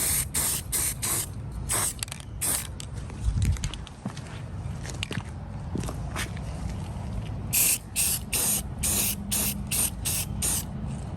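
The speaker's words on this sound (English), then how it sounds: "I'm using rust reformer." An aerosol can of rust reformer sprayed onto metal lamp hardware in short bursts: sharp close hisses at the start and again near the end, with quieter handling and clicks between them.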